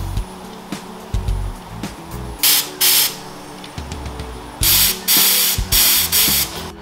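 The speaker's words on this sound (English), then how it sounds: "It's finally warm enough to start spray painting" Several sharp hissing bursts of a spray gun painting vehicle wheels, some short and some sustained, alternate with quieter mechanical clicks and a low hum, outdoors on a windy day.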